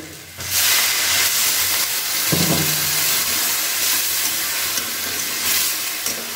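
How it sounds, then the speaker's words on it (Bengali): Water splashed onto roasted semolina in a hot pan for Bengali nonta suji sets off a loud, broad steaming sizzle and hiss that sustains steadily for several seconds, with a brief stirring scrape midway. "এবার আস্তে আস্তে আমি অল্প অল্প জল দিতে থাকবো।"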